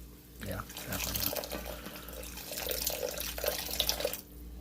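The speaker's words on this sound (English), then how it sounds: "we're gonna go in with some water" Water pouring steadily into a cooking pot already holding chicken broth for a pork neck bone dish, a broad continuous rush heard close over a few seconds, with a person talking over it.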